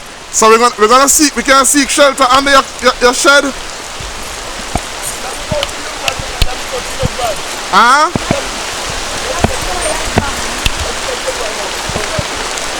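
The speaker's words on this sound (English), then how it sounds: "we may have to run because the rain is coming." Steady rain falls on open countryside by a river, a continuous hiss with scattered drops that carries through the whole stretch, while voices talk over it near the start and briefly later.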